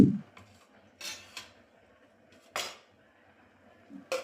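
A spoon clinks against a bowl a few times while chili powder is slowly stirred into a mixture, with short, sharp scrapes separated by quiet pauses.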